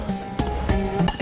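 A mixture with a pinch of salt is stirred in a bowl. A spoon clinks against the side several times in quick, close, uneven taps.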